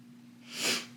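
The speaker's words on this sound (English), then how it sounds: "I've got that travel cough." A single short, breathy cough bursts out once in a quiet room over a low steady hum.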